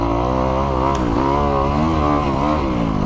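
A Kawasaki KX250X dirt bike rides through snow, its engine loud and close with a continuous buzzing drone that rises and dips in pitch as the throttle changes.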